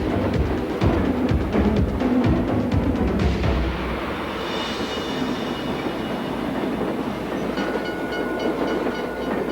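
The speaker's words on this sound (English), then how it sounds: "The runaway train had already rolled another mile down the track." A train rumbles along the track with rhythmic clacking, loud and close, its roar easing slightly as it continues rolling past.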